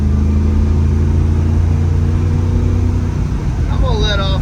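A 1966 Shelby GT350 with a four-speed manual gearbox revs hard and steadily up close, its engine drone holding strong before shifting pitch as it changes gear near the end; the roar continues without a break.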